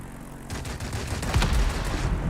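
Aircraft machine guns firing in the World of Warplanes combat flight game, a dense rattling burst that grows louder, close and sustained, with engine roar beneath.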